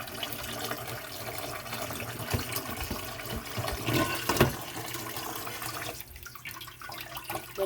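A large mud crab is washed under running water with continuous splashing and gushing from a tap and scattered clattering knocks. Toward the end the flow quietens.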